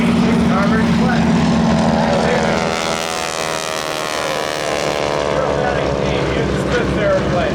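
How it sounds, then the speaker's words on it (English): An SNJ T-6 Harvard racing-class propeller plane takes off at the Oshkosh 2013 airshow, its radial engine roaring loud and close with a throbbing drone that swells and eases slightly, a commentator talking beneath. "The aircraft taking off in front of you is one of the 6 classes of racing and one of the most popular."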